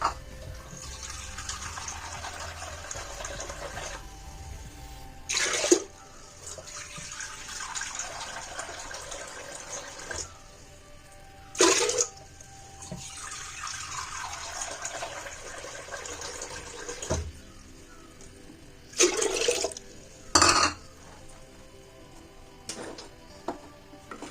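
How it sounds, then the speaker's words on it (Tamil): Water poured into a cooking pot while making pongal, several long hissing gushes, each fading gradually, broken by short sharp clanks, close and fairly quiet with no talk. "இப்போ தண்ணி ஊற்றிக்கலாம்"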